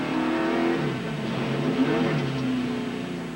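NASCAR race car engine at the 2000 Talladega DieHard 500, droning and revving steadily while the car spins around toward the pits, with a pitch that wavers and other engine noise blending in.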